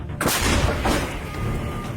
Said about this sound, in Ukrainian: Заряджай по готовності вогонь. Гармата! Постріл!